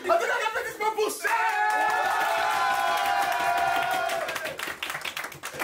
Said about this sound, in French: Un tonnerre d'applaudissements pour Chef!